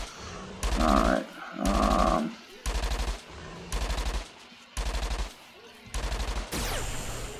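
Rapid gunfire rings out while hunting an Argo in the online game Entropia Universe: six evenly spaced bursts of fast automatic shots, loud and close, with short quiet gaps between them and a sweeping tail on the last burst.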